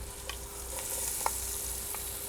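Onion sautés in extra virgin olive oil at the start of an okra beef stew, a soft steady sizzle with a few faint spoon clicks against the pan, close but quiet.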